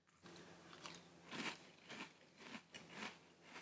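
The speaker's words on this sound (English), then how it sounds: "Let's try Sugar Cookie Toast Crunch in milk." Spoonfuls of Sugar Cookie Toast Crunch cereal in milk are chewed near the microphone, a series of soft, wet crunches recurring roughly every half second.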